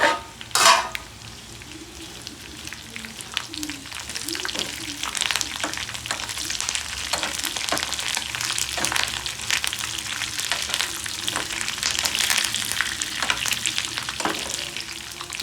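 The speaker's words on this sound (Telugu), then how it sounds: "దీంట్లో ఇప్పుడు ఎండుమిరపకాయలు వేసి వేస్తున్నాం." Dried red chillies fry in hot oil for a tempering of tamarind rice. A steady, close sizzle runs throughout, broken by the scrape and clink of stirring.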